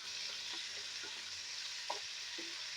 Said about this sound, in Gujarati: અને આ રીતે શેકી લેવાના છે.